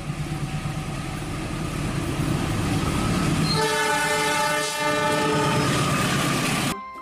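A small toy train rolls along with a rhythmic clatter, then a sustained electronic horn sounds for several seconds before cutting off abruptly.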